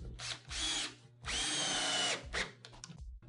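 Power drill driving a screw into the edge of an AZEK composite deck board: two close, loud whirring bursts, the second longer, with brief trailing spin-downs and light clicks at the end.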